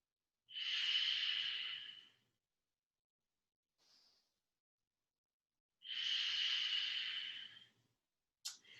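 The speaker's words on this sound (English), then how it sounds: "Make sure you still have your Ujjayi breath." Two long, steady ocean-like hisses of Ujjayi breathing during a yoga practice, each lasting about two seconds, close and alone in a quiet room, with a faint short breath between them.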